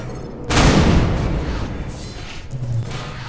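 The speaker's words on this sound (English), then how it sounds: "That explosion is really quite loud." An explosion in the Half-Life 2 video game hits with a sudden loud boom and leaves a long rumbling, crackling tail that gradually settles.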